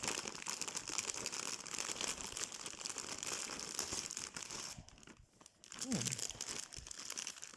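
Crinkly plastic packaging of a cross-stitch kit rustles and crackles continuously up close as it is handled and unwrapped, with a brief quieter pause near the end and a voice speaking faintly underneath.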